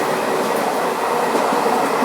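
Indian passenger train running on the way to Agra, a steady loud rumbling roar of wheels on track filling the whole stretch without pause.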